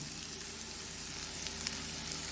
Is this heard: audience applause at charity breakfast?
no